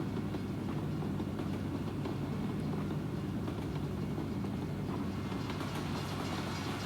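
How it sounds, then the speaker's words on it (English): A freight train in the video game American Truck Simulator rolls by steadily, a constant low rumble with faint rhythmic clatter of wheels on rails, loud and continuous throughout. "Oh, gonna be getting stopped by the train up here."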